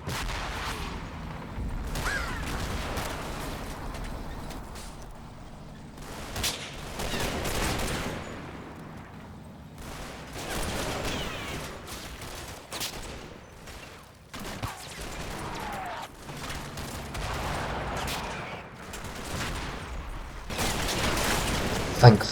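Machine gun and rifle fire in a Combat Mission WWII battle during Operation Epsom, scattered bursts and volleys of shots, some close and some distant, with intermittent explosions.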